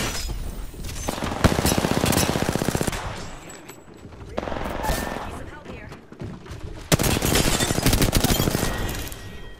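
Video game gunfire in three loud bursts of rapid automatic shots, close and harsh, separated by short quieter gaps with distant firing and someone speaking over parts.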